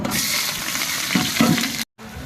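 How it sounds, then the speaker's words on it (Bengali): Steady, close sizzling of onions frying in hot oil with cloves for biryani, with a couple of stirring scrapes, then a brief cut and the sizzle resumes. "আর পেঁয়াজটা ছেড়ে দিলাম।"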